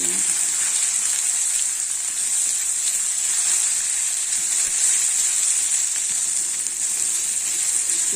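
Potatoes frying in a heavy iron pan, a loud, steady, bright sizzle that holds evenly for several seconds without a break.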